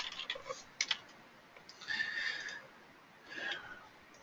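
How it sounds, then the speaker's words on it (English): Faint computer keyboard typing comes in a few short, quiet bursts of clicks separated by near silence. "let me type that right"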